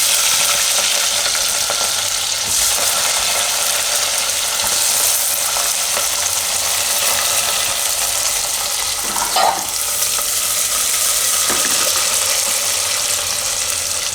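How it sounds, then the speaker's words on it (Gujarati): Onions, green chillies and curry leaves fry steadily in hot oil, a continuous close, dense sizzle with a few faint stirring clicks, heard alone without talk. "થોડીક વાર ડુંગળીને આમાં ખાવા દેવું તેલમાં 1-2 મિનિટ માટે."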